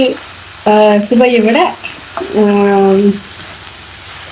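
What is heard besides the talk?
onions sautéing and sizzling in a pan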